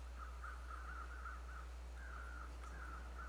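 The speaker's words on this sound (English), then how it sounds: "So I'm continuing to hear the crows, and so I'm going to look for them." Crows caw in the survival video game The Long Dark, a run of faint, repeated calls in two bursts over a steady low background hum.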